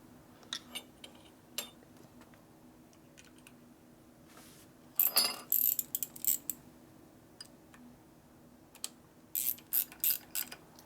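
Parts are pressed and worked out of a Harley-Davidson six-speed transmission on a Road Glide during a gear swap. The bench work gives sparse metallic clicks, ratcheting and clanks, with a few louder clustered bursts near the tool and no speech.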